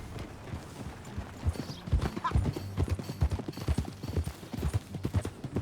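Horse hooves clip-clop steadily in a riding gait in Red Dead Redemption 2, close and fairly loud, with a brief whinny partway through and faint voices underneath.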